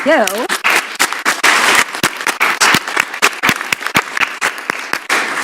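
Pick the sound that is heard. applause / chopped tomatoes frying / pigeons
applause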